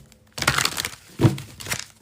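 A deck of cards is shuffled in a few quick papery riffles and crisp snaps, close and fairly soft with no talk over it.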